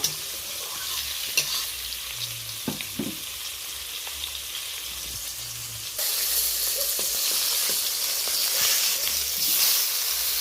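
Bhetki fish pieces fry in oil in a kadai with a steady, hissing sizzle that grows louder partway through as they are turned, with a few soft clinks of a spatula and no voices.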